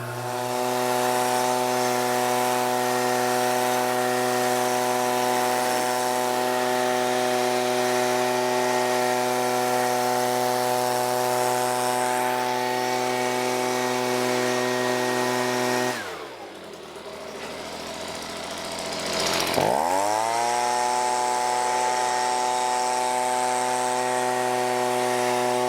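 A leaf blower drying a Honda S2000 whines steadily at a high pitch, then cuts out briefly and revs back up to the same steady drone.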